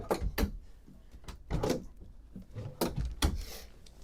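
Drawers and cabinet doors inside a 2025 Greyhawk 30Z RV slide and knock several times, a series of close wooden thumps and rubbing strokes with brief pauses between.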